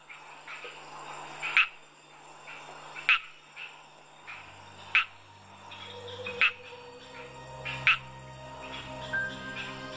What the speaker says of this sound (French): Les chants des parades nuptiales des 300 espèces de grenouilles résonnent dans la jungle.